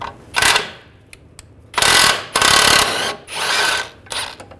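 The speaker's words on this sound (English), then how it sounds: "I'm going to use an 18mm socket on this bolt," A ratchet with an 18mm socket loosens a control arm bolt on a 2006-2010 BMW 550i, giving several bursts of rapid clicking, each lasting under a second, close up with no talking.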